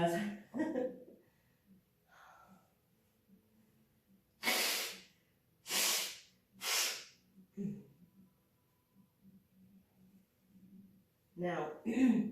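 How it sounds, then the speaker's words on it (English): During a quiet hatha yoga class, a person blows their nose in three loud, breathy honks a second apart, with soft breathing and brief bits of talk before and after. "I'm going to blow my nose while we're here"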